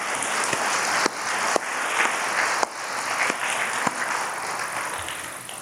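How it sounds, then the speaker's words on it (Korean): A congregation applauds in gratitude during a Catholic charismatic renewal lecture at a retreat centre, a dense, steady wash of clapping with a few sharper claps standing out and no speech over it. "우리 어머니께도 감사의 박수 드립니다"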